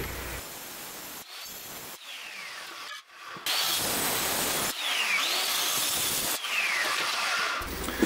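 An aluminum firewall sheet for a homemade boat-tail speedster is cut with a circular saw, the loud, rasping bursts of cutting separated by short pauses as the blade stops and restarts along the rough profile.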